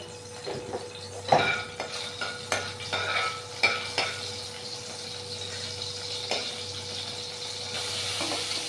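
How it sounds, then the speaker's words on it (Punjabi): Cumin, garlic and onion drop into a hot pan for lauki sabzi, bringing repeated utensil clinks and stirring scrapes over a building, steady sizzle that grows fuller toward the end, close with no voices. "ਫਿਰ ਆਪਾਂ ਜੀ ਕੱਟ ਕੇ ਰੱਖਿਆ ਲਸਣ ਪਿਆਜ਼ ਥੋੜਾ ਜਿਹਾ ਜੀਰਾ ਪਾ ਦਾਂਗੇ"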